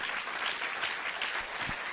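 A church congregation claps to praise the Lord during a sermon, producing a loud, full burst of many hands in a continuous dense patter with no talk over it.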